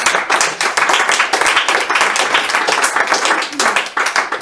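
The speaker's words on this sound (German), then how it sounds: "der Applaus ist es auf jeden Fall wert" An audience at a live conversation and book reading claps in dense, steady applause that keeps going for several seconds, loud and close, with no talk over it.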